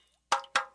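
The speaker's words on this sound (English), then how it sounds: "That's the sound of water coming from leaking pipes." Water drips from leaking pipes in two close, loud plops about a quarter second apart, each with a short ringing tail, in otherwise near silence.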